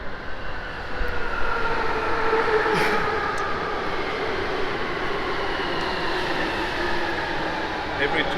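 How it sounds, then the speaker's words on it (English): A London Underground train passes as a steady, broad rumble that swells around one second and holds evenly for several seconds, with faint higher squeals riding over the noise and voices murmuring in the background. "Every 2 minutes is another train."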